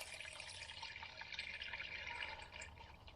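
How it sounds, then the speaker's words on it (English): Engine oil drains from a Toyota Sienna during an oil change, a faint, steady trickling pour with light dripping, continuous and without talk. "Isn't oil really cool when it pours out perfectly smooth where it looks like it's not moving?"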